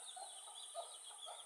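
Eleven healthy two-week-old desi chicken chicks peep softly and continuously, a faint, steady chorus of high chirps.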